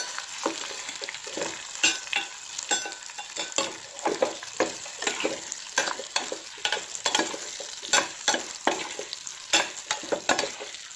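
Turmeric, red chilli powder and coriander are roasted in a pan for mango launji, a bright crackling sizzle carried by rapid repeated scrapes and stirs, close up and lively with no speech.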